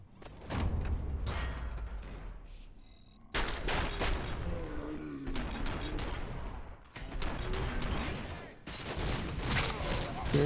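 Dense, loud gunfire from the RoboCop: Rogue City video game comes in sustained bursts of rapid shots and mechanical clatter, with brief pauses between them and voices underneath.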